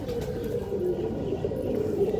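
Green-necked breeder pigeons coo steadily in a low, continuous murmur, close and fairly loud, with no voices over it.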